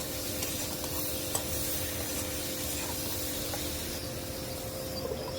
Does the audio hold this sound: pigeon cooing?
no